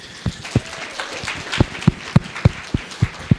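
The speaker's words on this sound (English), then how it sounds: "So everybody give a round of applause for James." A small fan-panel audience at an anime convention gives a round of applause, heard as sparse, distinct claps spaced about every quarter second rather than a dense roar.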